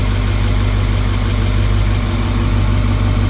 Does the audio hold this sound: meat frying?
no